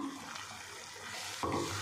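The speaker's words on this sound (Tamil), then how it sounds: "மிக்சி ஜாரில் கொஞ்சமாக தண்ணி விட்டு அதை கலந்துக்கலாம்." Water poured from a tap into a mixer grinder jar while making a spinach side dish in a kitchen, a short splashing, running stream that grows louder and fuller near the end.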